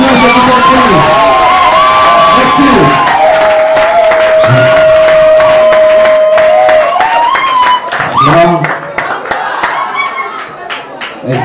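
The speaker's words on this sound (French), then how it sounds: "vous inviter à vous mettre debout et par vos acclamations, nous allons, n'est-ce pas, inviter cette sommité de la musique gospel camerounaise" Crowd cheering, whooping and clapping at a Cameroonian gospel music event in Yaoundé, loud and sustained, with a long held vocal tone and shouting voices through the middle, then thinning into scattered applause.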